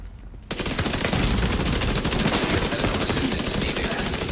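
Rapid, continuous automatic gunfire from The Division 2 video game bursts in after a brief quiet moment and keeps rattling loudly without a break.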